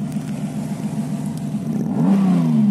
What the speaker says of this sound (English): Give you a bit of a rev so you can hear how it sounds.